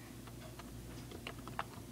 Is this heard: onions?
no